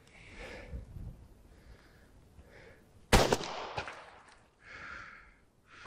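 A single shotgun shot fired with a 32-gram No. 3 shot load in a wad container, during long-range goose hunting: one sharp, loud blast midway with a short decaying tail, amid faint background noise.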